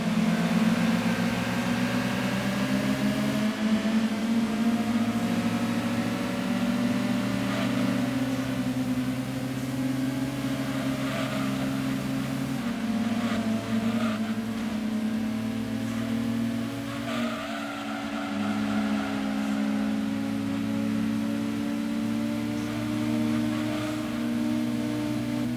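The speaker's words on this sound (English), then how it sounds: "you could hear him there just feathering the throttle, not wanting to overtake me" An opponent's race car engine drones steadily in a racing game, the throttle feathered in small rises and dips, a sustained buzzing tone under a louder engine bed.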